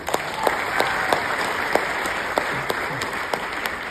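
Sustained audience applause fills a hall during a Marathi speech about the play Sahi Re Sahi, with steady dense clapping and a few sharper claps standing out, loud and close throughout.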